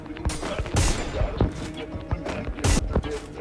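Desert Eagle pistol shots in a video game, several loud sharp cracks spaced irregularly over rapid clicking and impact sounds, with talk now and then.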